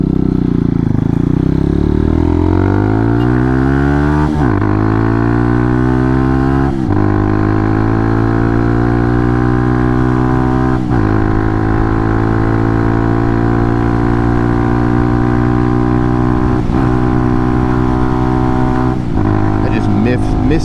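Hawk 250 motorcycle riding with a steady engine drone that climbs through the gears, with sharp breaks at each shift and one missed shift into fifth where the revs flare before settling, loud and continuous with wind noise.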